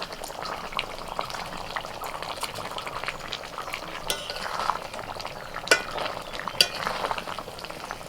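Paneer cubes added to an aubergine curry and frying in a pan, a steady soft bubbling sizzle with occasional light clicks of stirring, close and moderately quiet.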